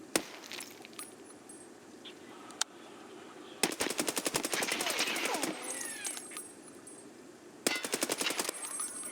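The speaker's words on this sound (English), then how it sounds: "if you hit B, you'll go to full auto if the weapon is capable of it" Full-auto gunfire in the shooter Escape From Tarkov comes in two rapid bursts, crackling and fairly loud with glassy clinks, while someone talks quietly throughout.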